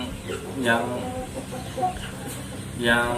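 Chickens cluck in short bursts at irregular intervals, close by, with faint background noise between the calls.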